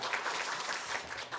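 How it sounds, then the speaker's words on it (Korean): A church congregation at a Sunday worship service applauds in a brief burst of dense, steady clapping, moderately loud and filling the room for just over a second, with no voices over it. "우리 박수로"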